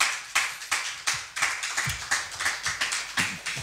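A church congregation claps together in praise of God, a steady run of sharp, slightly uneven hand claps repeating roughly every third of a second, close and lively, with no talking over it.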